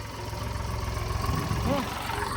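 A tractor engine idling nearby, a steady low rumbling throb running throughout at moderate level, with a brief rise near the end.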